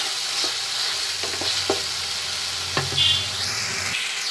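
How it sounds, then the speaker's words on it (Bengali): Spice masala sautés and gets stirred in a pan for an egg curry, a soft steady sizzle broken by a few distinct spatula knocks and scrapes, with no voices. "মশলাটা দেখুন কষানো হচ্ছে"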